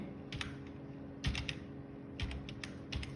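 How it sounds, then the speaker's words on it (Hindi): Quiet clicks of a computer keyboard being typed on come in short bursts, with a Tab key press among them, close by and with no voice. "टैब बटन आप दबाएंगे कीबोर्ड से"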